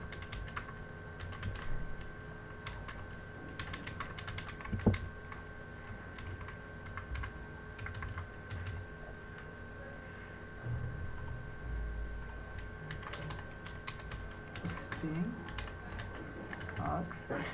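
Computer keyboard keys are typed while Java code is written, with faint, irregular clusters of soft clicks spread over many seconds against a quiet background and occasional speech.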